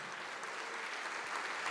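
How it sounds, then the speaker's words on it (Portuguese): A church congregation applauds during a sermon, a dense, continuous patter of many hands clapping at moderate volume, swelling slightly toward the end with no speech over it. "Vamos aplaudir mais, igreja."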